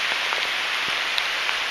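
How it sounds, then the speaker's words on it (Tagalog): Heavy rain pours down on a forest trail in the Kettle Moraine South Unit, a dense steady hiss with scattered nearby drops tapping on surfaces, loud and continuous with no voices. "Kusog na gyud kayong ulan."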